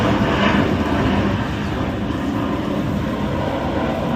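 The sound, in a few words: jet aircraft flying overhead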